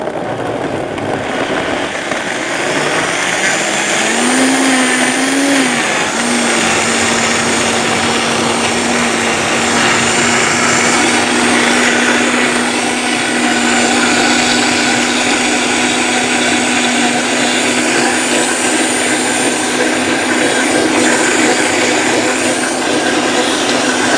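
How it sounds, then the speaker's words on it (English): A Vitamix blender blending a green smoothie whirs loudly and steadily, its motor pitch rising briefly as it speeds up, then holding a constant close roar for over twenty seconds without talk. "So I have a Vitamix blender, which is kind of substantial, but I start at low."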